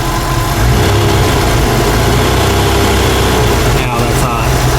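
A 1995 Mustang GT 5.0 V8 with an exhaust leak runs loud and close, a steady rumbling engine with a roughness through the exhaust, and someone talks over it.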